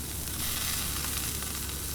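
Burgers sizzle steadily on a hot Blackstone flat-top griddle, a dense, even crackle of fat and meat searing at close range with no talking.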